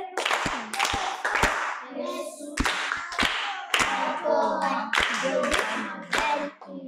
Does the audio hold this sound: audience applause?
yes